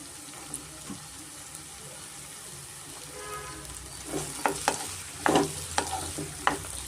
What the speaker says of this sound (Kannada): ಇದು ಸ್ವಲ್ಪ ಎಣ್ಣೆನಲ್ಲಿ ಚೆನ್ನಾಗಿ ಫ್ರೈ ಆಗಬೇಕಾಗತ್ತೆ